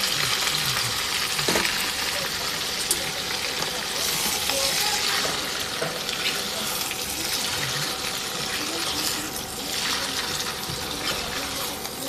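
Pasta fries with onions and chillies in a pan, a steady close sizzle with occasional stirring clatter and a watery hiss running throughout.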